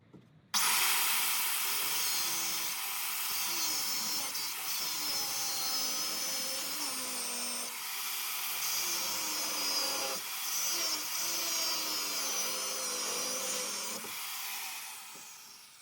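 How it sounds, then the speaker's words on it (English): An angle grinder cuts off a badly rusted nut on the rear brake of an MGB, a loud, continuous high-pitched grinding whine that wavers slightly under load, close up and alone for about fifteen seconds. "I might have to grind this one off."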